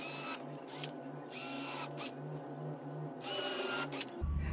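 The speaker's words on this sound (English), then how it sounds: "I used a drill for the pilot holes" A steady mechanical whir with a pulsing low hum runs throughout, briefly dipping at moments, as a power drill bores pilot holes for mounting speakers nearby.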